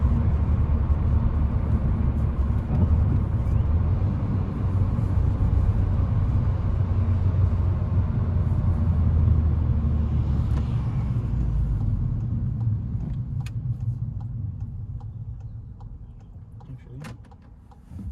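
A VW Golf MK7 GTI with an ARM Motorsports intake drives along, heard as a steady low engine rumble from inside the car that eases and fades toward the end.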